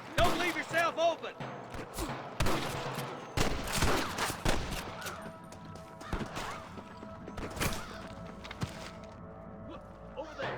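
Gunfire from snipers in Red Dead Redemption, scattered sharp cracks and impacts among Western game sounds, with people talking throughout.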